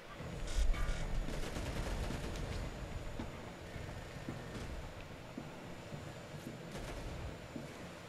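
Gunfire in the video game Crackdown 2 rattles in a dense, continuous stream of overlapping shots and bursts. It sounds moderately loud under a constant noisy background, with no speech.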